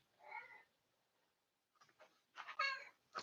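Upstairs neighbor's cat meowing indoors, a short meow followed after a pause by a few louder, closer meows in quick succession.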